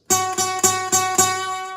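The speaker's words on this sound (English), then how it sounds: "Do you hear how it's rattling and the string is not vibrating for a very long period of time?" A dead note on an electric guitar is picked five times in a steady rhythm, each attack short and buzzing with a slight rattle, the string dying away quickly.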